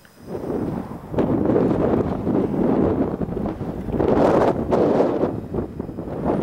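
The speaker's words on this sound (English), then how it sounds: "This wind is a pain in the ass!" Gusty wind batters the microphone while cycling, a loud rumbling roar that surges and dips in uneven gusts throughout.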